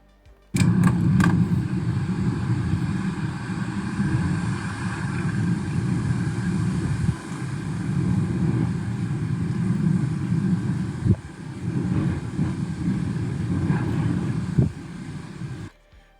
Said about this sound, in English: Plus you can hear outside the car, there's a constant wind blowing.